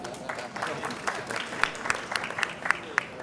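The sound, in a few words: audience applause at a meeting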